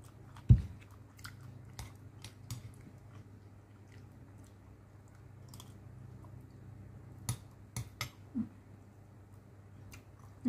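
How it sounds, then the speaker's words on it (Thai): Someone eats nearby, with soft, sparse crunches and bites scattered over a quiet background and no talking. "กินกันได้เลย"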